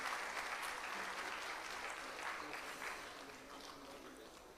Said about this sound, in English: Audience, give a huge round of applause.